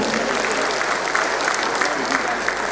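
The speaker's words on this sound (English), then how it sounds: "A round of applause for them." A room full of people at a governor's security town hall applauds police officers, a dense, steady round of clapping that holds at an even level throughout.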